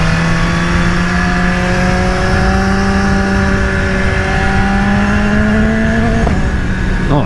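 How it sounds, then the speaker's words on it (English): A Kawasaki Ninja 300 motorcycle revving hard close by, its engine note loud and continuous, pitch climbing steadily before dropping away near the end. "there you go, Ninja 300, ripping it"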